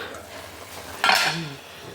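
Spinach thoran being stirred in a pan, a brief scraping stir of about a quarter second in the middle of a quiet stretch of low, steady cooking noise.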